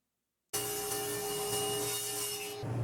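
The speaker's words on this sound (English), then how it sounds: "I'm cutting the joints right now." A tool cuts joints into planed wooden table legs in a workshop, a loud, steady rasping and grinding that starts abruptly and runs unbroken for about two seconds before stopping, with no voices.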